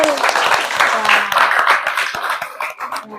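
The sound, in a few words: classroom students clapping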